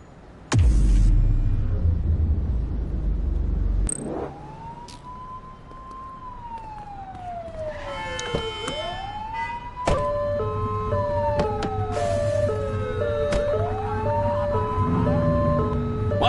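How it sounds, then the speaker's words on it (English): A police siren in the PS5 video game The Precinct wails up and down, then switches to a rapid alternating yelp, loud and close, after a heavy thump and engine rumble. "Turn that siren off."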